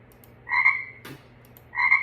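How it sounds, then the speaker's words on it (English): Two loud, close frog croaks, each a short rasping buzz about half a second long, separated by a faint click in quiet surroundings. "That's all I hear is frog croaks"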